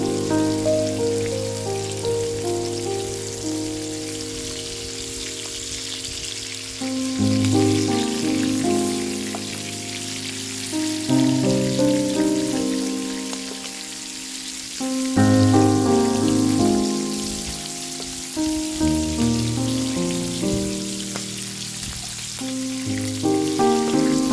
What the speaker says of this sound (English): Fry the 1 pound of marinated shrimp for 1 to 2 minutes on each side